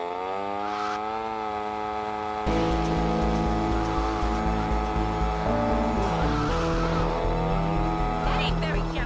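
Motorbike engine in GTA Vice City, a loud, steady buzzing drone that jumps up in intensity partway through and revs under occasional voices.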